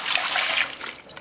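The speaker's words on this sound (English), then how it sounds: "And here's the dirty water." Dirty water pours from the tank of a Vax Floormate Freedom hard floor washer, a short close splashing trickle that is strongest at first and then tapers off, with no talking.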